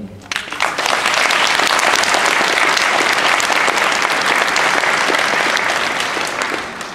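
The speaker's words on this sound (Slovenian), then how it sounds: "potem si zaslužijo en velik aplavz vsi skupaj za pomoč, ki nudite Ljubljančakom in Ljubljančanom." Audience at a Ljubljana home-care users' meeting breaking into loud, sustained applause, many hands clapping close by, rising quickly and holding steady before easing slightly at the end.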